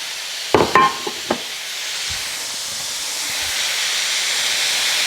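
Onions and Polish sausage frying in avocado oil, a steady soft hiss of sizzling that builds gently through the clip, preceded near the start by a few sharp clinks and knocks of food going into the pan.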